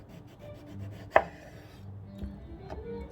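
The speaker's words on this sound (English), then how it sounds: "I am making some eggplant parmigiano today, but I'm slicing it thin" A kitchen knife cuts eggplant into thin slices for eggplant parmigiano, with one sharp, close chop standing out and softer, scattered cuts against the board after it in a quiet kitchen.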